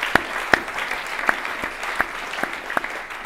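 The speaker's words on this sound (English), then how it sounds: "That's a round of applause for that." An audience at a high school spring sports awards ceremony gives a round of applause: a steady bed of crowd clapping punctuated by several sharper, closer individual claps at irregular intervals.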